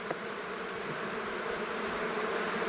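Swarm of honey bees humming steadily at a beehive in an apiary, a dense, continuous close buzz that holds at an even level throughout, with no voices.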